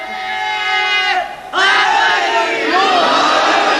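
At a Muharram majlis gathering, a large crowd shouts a slogan in unison, then bursts into a second, louder roaring chant after a brief dip.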